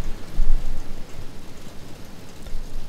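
Heavy rain falls in a dense, steady hiss that stays loud and close throughout, with a slightly stronger burst near the start and no voices over it.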